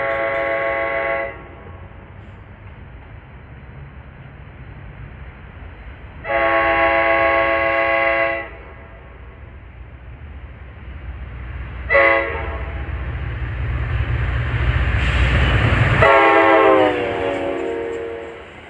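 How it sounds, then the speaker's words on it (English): Horn of a GP40FH-2 locomotive on an approaching commuter train in Secaucus, New Jersey, sounding several loud chord blasts: a short one, a longer one, a brief one, then a final long blast over a rising engine rumble as it nears. "That has a pretty solid horn."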